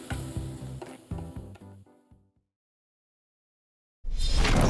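Vegetables stir-fried in a pan that is blackening on the bottom, with loud close sizzling and clattering stirs for about two seconds, then silence, then a burst of sizzle returning.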